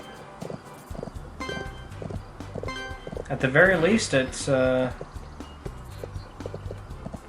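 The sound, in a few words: horse hooves galloping in a video game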